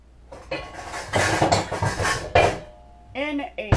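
A large saucepan is handled on a stove, giving several close metallic clanks and scrapes of pot and utensils, with a person talking over them and a brief bright ring near the end.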